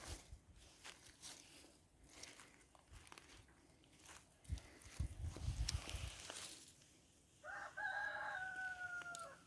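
A rooster crows loudly near the end, preceded by assorted clucking and rustling from a flock of chickens close by in a chicken coop.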